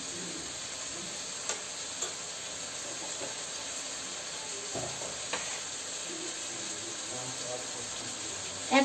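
Spices such as turmeric and fennel seeds frying in oil for a simple mutton curry, a constant bright sizzle and hiss with occasional light spoon taps and stirs, no talk.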